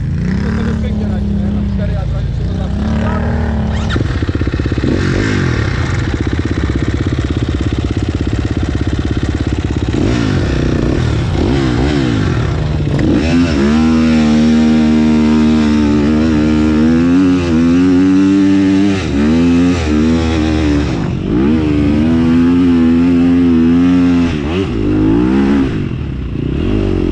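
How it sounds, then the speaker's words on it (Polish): Motorcycle ridden over rough, difficult ground, its engine revving and droning up and down continuously with clatter and scraping throughout, loud and close, while people talk over it. "ciężko się tu motorem jeździ"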